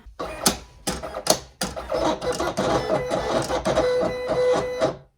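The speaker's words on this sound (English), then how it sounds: "I think the Cameo is so much louder, especially when you're using the roll feeder" A Silhouette Cameo cutting machine with roll feeder whirs and clatters loudly up close, with short motor bursts and pauses, then a longer stretch of continuous mechanical buzzing.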